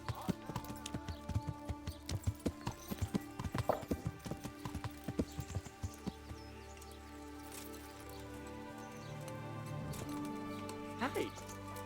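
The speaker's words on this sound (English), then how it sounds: "Who's brave enough to try horse riding?" Horse hooves clip-clop rhythmically on the ground while riding in the medieval game Kingdom Come: Deliverance, the regular beats strong for the first half, then thinning out under ambient game sounds and background music.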